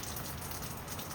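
Steady rain falls outdoors in a dense, continuous hiss with no pauses, close and fairly loud throughout.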